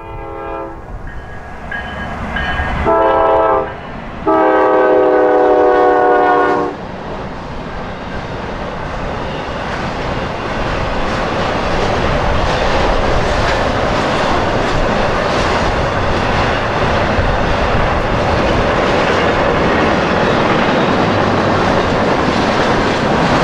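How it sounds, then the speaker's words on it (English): A Norfolk Southern freight train sounds its horn in two loud blasts near the start, then rolls past with a steady, building rumble and rattle of rail cars that fills the rest of the clip. "Train is Norfolk Southern 206."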